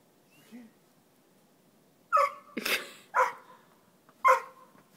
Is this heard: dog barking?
yes